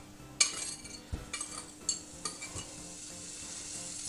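Butter melting in a saucepan on the stove, a soft continuous sizzle under a few sharp clinks and scrapes of a utensil against the pan, close and fairly quiet, no voices.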